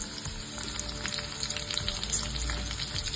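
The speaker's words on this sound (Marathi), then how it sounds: "जिरं चांगलं तडतडायला लागेल की हा अर्धा चिरलेला कांदा यामध्ये टाकून घेतला" Steady, close sizzling and crackling of chopped onion and cumin seeds frying in hot oil, continuous throughout with no talking.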